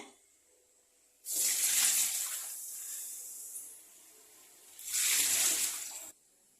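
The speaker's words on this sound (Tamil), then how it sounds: "அப்படியே கீழே ஊற்றிடலாம் அந்த தண்ணியை" Water poured out of a clay pot during traditional clay pot seasoning: two separate bright, splashy pours of about two seconds and one second, close and fairly loud, with quiet gaps between them.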